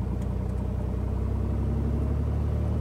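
A small aircraft's piston engine holds a steady run-up at 1800 RPM, a loud, close, continuous drone with a throbbing low rumble.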